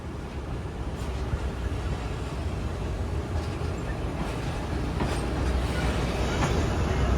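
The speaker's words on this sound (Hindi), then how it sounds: "ये पहले ट्रेन हमारी अप लाइन पर आ रही है।" A train on a Pakistani railway line rolls in on the up line with a steady low rumble and rail noise that grows slightly louder toward the end, no voices over it.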